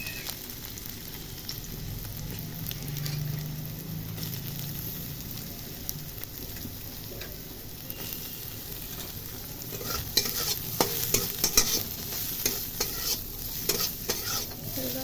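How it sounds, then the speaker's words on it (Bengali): Boiled soybean chunks fry in oil in a wok with a steady close sizzle, while in the second half a spatula stirs them with a rapid clatter of scraping and tapping on the pan. "এরপরে যে সিদ্ধ করে রাখা সয়াবিন ছিল সেগুলো ভেজে নেব।"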